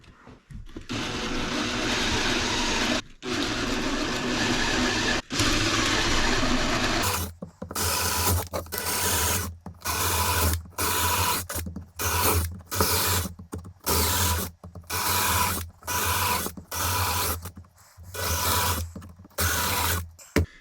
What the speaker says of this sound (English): put a big drill bit on a drill and then just drill holes into a piece of wood